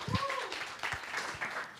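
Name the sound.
audience applause welcoming a speaker to the stage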